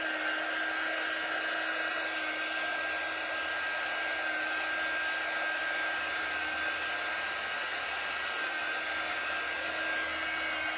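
A heat tool blows steadily and close by, drying the painted pieces of a fabric wine bag. Its strong, continuous whine holds a fixed pitch for the whole stretch, and no one speaks.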